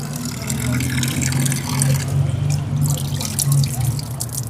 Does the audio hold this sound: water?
yes